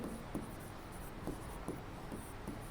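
Handwriting on paper during a maths lesson, faint scratching pen strokes in short irregular bursts against a quiet room background.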